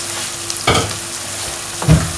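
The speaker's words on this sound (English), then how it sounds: "Now I want to add my sweet pepper, which I've shredded, the combination of red and orange, and my purple" Shredded red and orange sweet peppers and purple cabbage hit a hot pan, with two sharp bursts of stir-frying scrape and sizzle over a quiet background hiss.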